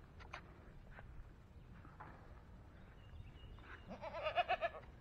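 A baby goat bleats in a forest setting, a short run of quavering cries rising near the end over soft background noise, preceded by a few faint earlier calls.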